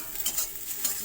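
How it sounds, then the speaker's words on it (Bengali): Egg frying in a wok gives a close, steady crackling sizzle with light scraping from stirring, brief and without talk. "তো আমি ভাজা করছি ডিম।"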